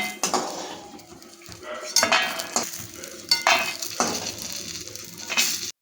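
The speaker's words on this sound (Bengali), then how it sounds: "প্রথমে কটা বড়ি আমি ভেজে তুলে নেব।" Lentil dumplings (bori) fry in hot oil in a pan, a soft sizzle under repeated scraping and clinking of a metal utensil stirring against the pan, with no voices.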